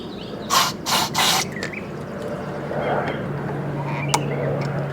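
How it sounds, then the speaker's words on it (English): Three short hissing bursts of contact cleaner sprayed into a Harley-Davidson motorcycle switch, close and sharp, followed by quieter handling sounds and faint clicks over a low steady hum. "spray a little bit of contact cleaner in there"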